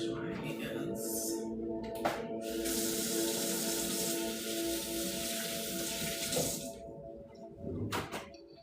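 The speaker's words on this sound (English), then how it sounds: "Wash my hands." Hands washed under a running faucet, a steady hiss of water into a sink that swells in the middle and stops near the end, heard close beneath a person talking.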